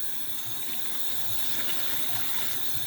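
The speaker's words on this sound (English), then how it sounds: "we're going to fill this up. You start with cold water." Cold tap water running into a pot at a kitchen sink, a steady, moderately quiet splashing rush that continues without a break and has no voices over it.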